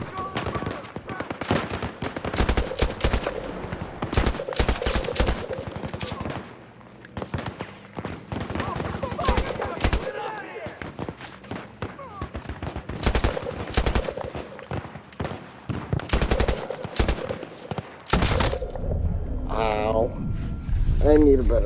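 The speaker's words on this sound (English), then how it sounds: "This is fast firing." Rapid automatic gunfire in the shooter Battlefield 2042 during a large battle over objectives, dense bursts running almost continuously and loud, with a voice talking at times underneath.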